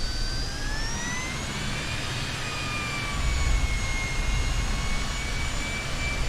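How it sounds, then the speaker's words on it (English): Fokker F28 jet engines spooling up in Microsoft Flight Simulator, a steady loud roar with whining tones slowly rising in pitch, the low rumble swelling about halfway through, no voices. "Listen to those engine sounds, guys. Let me give it a little power here"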